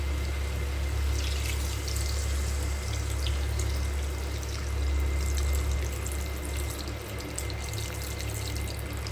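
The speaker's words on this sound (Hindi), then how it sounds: "तो मैं अब यहाँ पे अभी पानी डालूँगी।" Water poured from a tap or container into a dish during home cooking, a continuous close splashing pour lasting several seconds with no talk over it.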